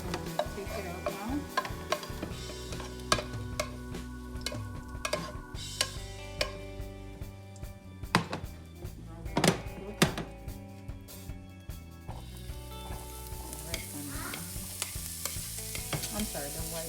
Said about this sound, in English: I'm just going to saute it a little bit.